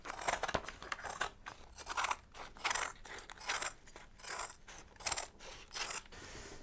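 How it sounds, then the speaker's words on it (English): Scissors cut discs from biaxial glass fabric, giving a series of about ten crisp, crunchy snips in a steady rhythm. The snips are close but quiet, with no voices. "and then use my scissors to cut the discs"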